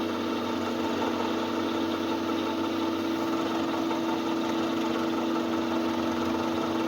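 Bridgeport milling machine running a test cut on a random piece of steel while unleveled and wobbly: a steady mechanical drone with hum and constant vibration, close and even throughout, no talking.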